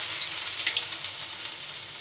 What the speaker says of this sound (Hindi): ग्रेट किया हुआ अदरक, साथ में